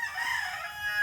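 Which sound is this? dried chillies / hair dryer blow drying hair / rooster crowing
rooster crowing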